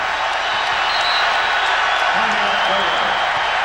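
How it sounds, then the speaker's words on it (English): A Mizzou basketball crowd roars in a packed arena, a steady wash of cheering under a commentator's voice. "Listen to this Mizzou crowd."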